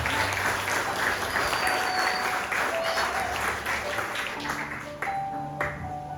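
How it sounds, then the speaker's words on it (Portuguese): A church congregation bursts into sustained applause, a dense, steady wash of many hands clapping at once. Faint sustained tones ring underneath, and the clapping gradually thins out near the end. "Dê uma salva de palmas porque você não podia pagar."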